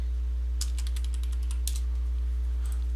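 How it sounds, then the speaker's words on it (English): Keys clatter on a computer keyboard in short, irregular bursts of typing over a steady low electrical hum, near and fairly quiet. "You need to type the text."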